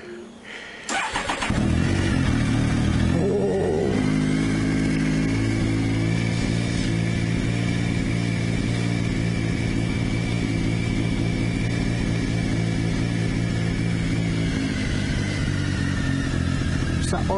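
A Triumph Tiger 955i motorcycle cranks briefly and fires up, then settles into a loud, steady idle with a smooth hum and a constant whine running on.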